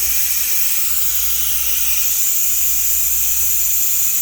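Pressure cooker with curry goat venting steam, a loud continuous high hiss that holds steady throughout, with no talk.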